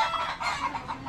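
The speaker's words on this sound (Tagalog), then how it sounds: "ingay ng manok" Chickens cluck in a brief, busy burst of repeated calls, fairly close and moderately loud, with no talking over them.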